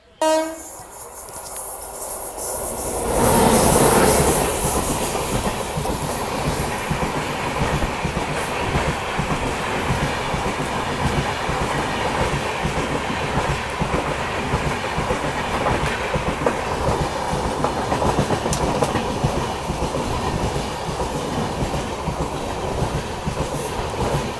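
An express train on the Kacheguda–Tuticorin line rushes past close by, its loud steady roar and rhythmic wheel clatter continuing for a long stretch after a sudden onset.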